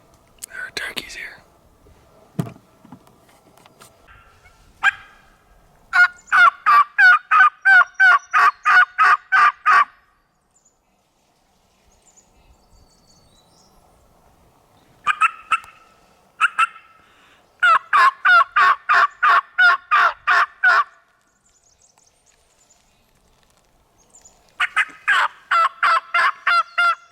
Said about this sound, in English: There are turkeys here.